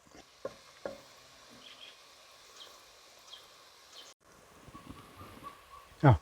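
Spice powders including asafoetida being stirred and fried in a pan for a dates pickle, with soft scraping and faint sizzle at low level, a few light knocks, and a louder clatter at the very end.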